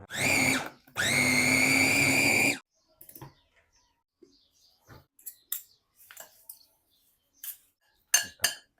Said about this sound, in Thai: แล้วก็ปั่นอีกรอบ